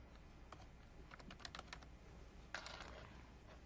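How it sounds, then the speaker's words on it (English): Typing on a computer keyboard while entering an appointment in Outlook Web Access, heard as a scattered series of quiet, close key clicks with a brief faster burst near the end, over a low background hum. "So I'm going to type in there,"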